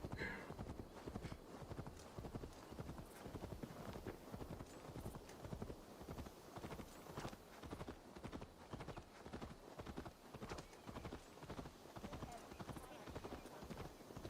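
Horse hooves jogging at a steady, even clip-clop across the whole stretch in the video game Assassin's Creed Valhalla, with a brief whinny near the start.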